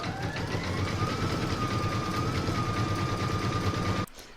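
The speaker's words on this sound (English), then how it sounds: "I'm now going to place that in my machine and stitch round number 5, and that's going to zigzag all the raw edges." An embroidery machine zigzag-stitches the raw edges of an in-the-hoop cat bookmark, a steady close mechanical whir with a rapid needle rhythm that runs without a break for about four seconds, then stops abruptly.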